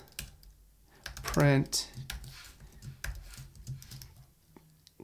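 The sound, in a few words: typing on a computer keyboard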